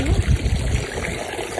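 Shoe-clad feet step into cold water in a farm field, giving a short close splash and trickle that fades into a soft watery wash.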